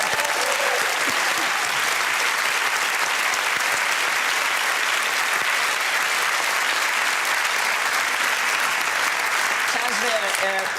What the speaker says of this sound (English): that's the longest round of applause we've ever had for anything